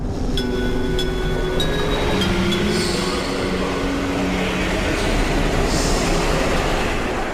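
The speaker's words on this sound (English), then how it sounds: "after which we pair it with various train-related sounds" Processed train sounds from the game Trainslation, with dense rumbling rail noise, squealing wheel tones and drawn-out echo and reverb, loud and continuous throughout with no talking.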